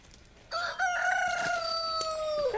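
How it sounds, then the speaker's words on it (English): A rooster crows once, a long loud call held for about two seconds, nearby and without other voices. "Cock-a-doodle-doo."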